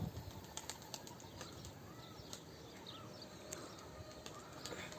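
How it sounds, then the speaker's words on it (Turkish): Faint rapid wing flaps and flutters from a pigeon as it lands, scattered sharp beats over a quiet background hiss. "Evet Helal arkadaşlar kuş indi."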